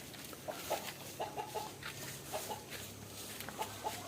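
Heron chicks (kokokan, egret family) calling from their nest in a breeding colony, a scatter of short nasal chirps and clucks at moderate distance over a steady low background hum.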